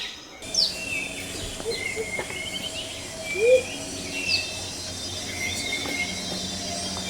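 Low hooting motmot calls ring out a few times over a humming Central American rainforest backdrop, with other chirps and whistles scattered around at a distance.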